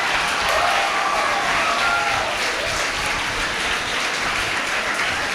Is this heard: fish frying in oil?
no